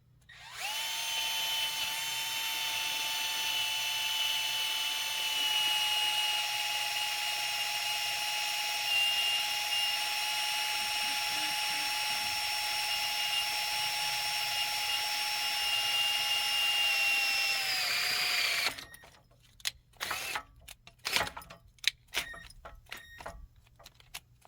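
A power drill bores a hole in an engine part, running at a loud, steady whine for nearly twenty seconds before stopping abruptly and giving way to scattered clatter and handling sounds.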